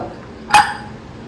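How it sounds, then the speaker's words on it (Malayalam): A pressure cooker of boiled potatoes, used for beef cutlets, is opened with one short, sharp metallic clink and a brief burst of released pressure that quickly fades into a quiet kitchen. "നമുക്ക് ഇനി കുക്കർ ഒന്ന് തുറന്ന് നോക്കാം കേട്ടോ."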